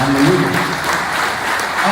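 A worship congregation claps hands together in dense, continuous applause, loud and close, with a few voices mixed in.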